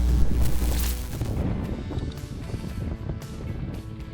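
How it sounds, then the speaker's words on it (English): Harsh, gusty wind buffets the microphone during a fall trail ride at the top of a valley, making a loud, steady roar that swells and eases throughout. "the harsh wind that day added an extra challenge"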